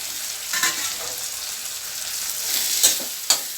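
Chopped tomatoes sauté with brinjal in a hot pan for Chidambaram kathirikkai gosthu: a steady close sizzle runs throughout, with a few brief scraping stirs, and no voices.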